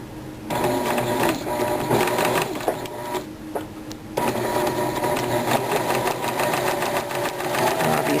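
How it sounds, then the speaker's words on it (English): A sewing machine runs in fast steady bursts while stitching a quarter-inch seam allowance on a kaleidoscope quilt, with a brief pause partway through and a rapid mechanical needle rhythm close by. "I'll be stitching the 1/4 inch seam allowance all the way up"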